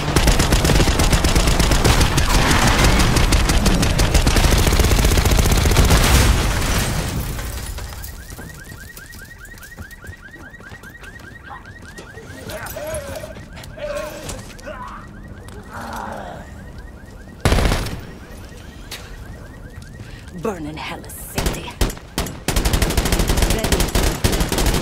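Gunfire in a Call of Duty: Black Ops 6 campaign street ambush on a limo, loud dense bursts at first, then sparser shots and distant clatter with a looping alarm-like tone, a sharp crack near the end.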